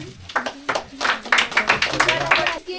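Children at a tutorial's Children's Day prize-giving clap for a game winner, a brisk scattered round of handclaps nearby, irregular and moderately loud, with some voices mixed in.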